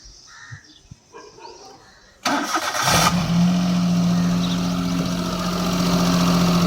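A car's engine cranks and catches after a couple of quiet seconds, then settles into a steady, fairly loud idle with a low hum continuing to the end.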